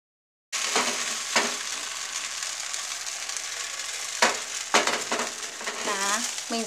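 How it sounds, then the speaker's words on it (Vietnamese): Bánh xèo batter sizzles steadily in a hot oiled pan, a continuous loud frying hiss broken by a few sharp scraping or spatula knocks, with a brief squeaky sound near the end. "Con tráng một lớp mỏng ở trên chảo nhé"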